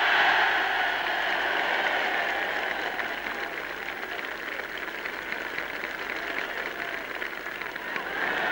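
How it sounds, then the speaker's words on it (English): Crowd at the Oval cheering the finish of the 1953 Ashes Test for Trevor Bailey, a broad steady roar and applause with a hissy wash, heard from a distance on an old broadcast. "Special cheer from the crowd there for Trevor Bailey"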